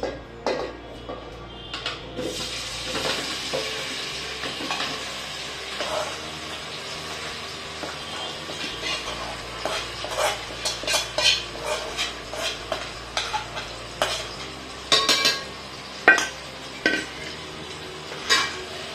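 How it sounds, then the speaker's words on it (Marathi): Mixed vegetables for a vegetable dum biryani go into hot oil left from frying onions, with a soft sizzle under repeated sharp clinks and scrapes of a spoon stirring against the pan, getting busier toward the end. "हे बघा इथे आपण तेल गरम करायला ठेवलेले आहे, जे आपण कांदा परतायला घेतलेलं होतं ना तळायला तेच तेल घेतलेले। आता त्याच्यामध्ये आपण ह्या भाज्या घालतोय।"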